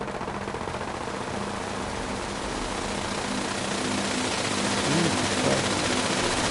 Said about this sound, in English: Oh, it was the turret shooting.